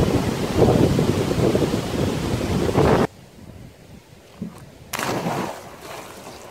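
Loud gusts of wind roar against the microphone, cutting off abruptly, then returning briefly before dropping to a quieter outdoor hush.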